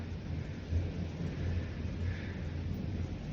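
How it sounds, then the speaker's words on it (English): Heavy rain pours steadily outside while low thunder rumbles underneath, a continuous broad hiss with rolling deep swells and no voices. "holy crap, look at how bad it's raining out here"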